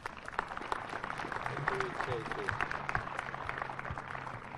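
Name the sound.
audience applause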